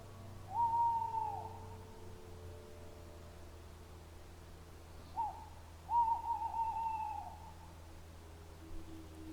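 A tawny owl gives its territorial hoot twice in the winter mating season, a short call then a longer wavering one, distant over a steady low hum and faint background hiss.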